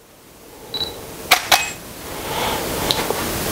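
A camera shutter fires at a slow speed while a strobe light flashes, giving two crisp open-and-close click pairs a moment apart, with a short electronic beep and a quiet room hum in the background.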